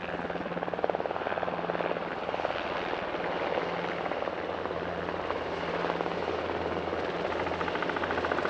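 A Swedish Air Force UH-60M Black Hawk helicopter at an anniversary airshow gives a steady, loud rotor thump and turbine whine, sustained and unbroken with no talk over it.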